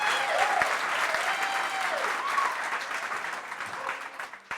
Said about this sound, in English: you should applaud him.